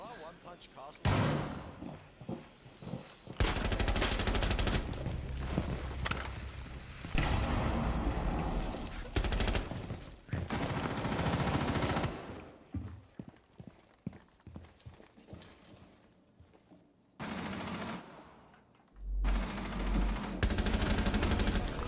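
Gunfire in Rainbow Six Siege ranked play, loud bursts of rapid shots and impacts scattered across the stretch with brief quiet gaps, mixed with game sounds and some voice.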